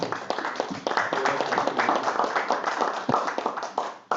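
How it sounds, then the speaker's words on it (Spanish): Audience applause at a cultural event at the Secretariat of Culture in Chiapas, Mexico: dense, steady clapping from a crowd with some sharper individual claps, close and fairly loud throughout, with no talk over it. "Un aplauso, por favor, para Marco Antonio Orozco."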